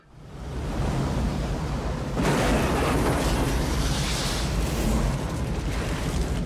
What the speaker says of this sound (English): Joe, Bill, did you see that explosion?